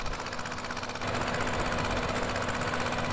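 A Zetor HMT 2511 mini tractor engine in Farming Simulator 18 drones steadily while pulling a rotavator, a constant buzzing rattle with a faint hum that thickens slightly after the first second.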